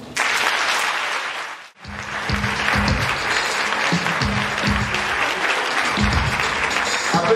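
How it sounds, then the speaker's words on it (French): Sustained audience applause at a conference, briefly interrupted by a near-silent gap, then resuming strongly with loud low thumps pulsing beneath the clapping. "Applaudissez encore"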